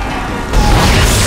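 A sudden, loud blast from a weapon fired in the Dead Space video game cuts in midway and gives way to a dense, sustained roar with no talking.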